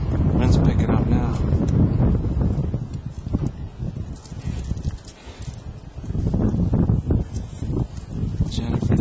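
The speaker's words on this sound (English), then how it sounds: "Wind's picking up now." Wind gusts during a blizzard buffet the microphone outdoors with loud, uneven rumbling and rushing noise that swells and eases over several seconds.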